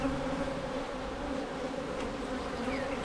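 A swarm of honey bees gives a steady, dense buzzing drone, close and continuous, with no voices over it.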